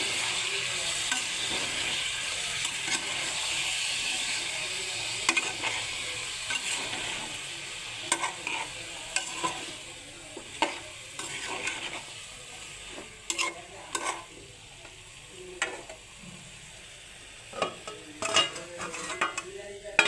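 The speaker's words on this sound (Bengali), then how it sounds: "এখন আমি সবগুলো সবজি ঢেলে নিই। ভালো করে নেড়ে" Vegetables for a dried fish (chepa shutki) curry stirred and frying in a pan, a steady sizzle with intermittent scraping and clinks of a utensil against the pot, no talking.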